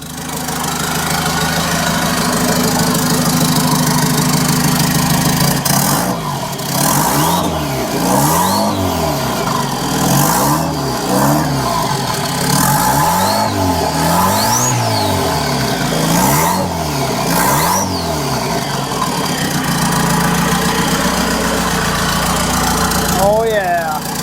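A turbocharged 1998 Chevy Tracker with a Suzuki Samurai engine idles, then gets blipped in a series of repeated rising-and-falling revs that rhythmically swell and fade, loud and close, with a brief voice near the end.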